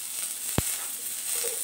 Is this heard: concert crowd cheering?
no